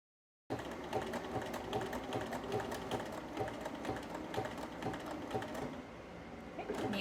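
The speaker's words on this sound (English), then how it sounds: "So sewing right over that, just making sure nothing's wrinkled under there." A home sewing machine stitches a blouse made from the Friday Pattern Co Adrienne pattern. It runs as a steady, close, continuous mechanical whir with rapid needle ticking for about six seconds, then eases off near the end.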